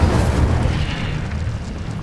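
Incendio fire spell in Hogwarts Legacy erupting in a loud, deep whooshing burst of flame that roars steadily for about two seconds without any voice.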